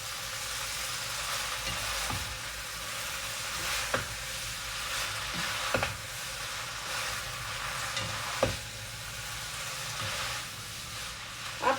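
Creamy pesto pasta cooking in a pan, with a steady sizzling hiss and occasional clinks as it is stirred, fairly close and without talk.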